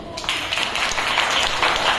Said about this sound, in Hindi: आप सबके लिए तालियां बजाओ